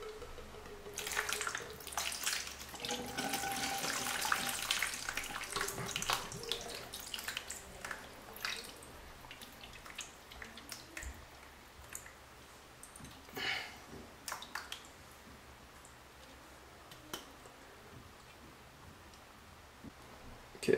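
Running water rinses water-cooling parts for a third wash during a Corsair 800D build, a steady splashing flow with scattered clicks and drips that is busiest early and thins toward the end.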